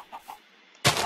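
A Minecraft chicken gives two or three soft, short clucks, faint and close together, followed by a sudden loud burst of broadband game noise near the end.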